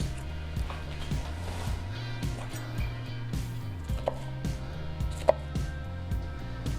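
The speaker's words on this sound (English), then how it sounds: "I'll cut these along and try to keep it as whole as possible" Knife slicing through a head of cauliflower on a cutting board, a run of repeated soft thuds and crunchy cuts in an uneven rhythm, close and clear with no talk.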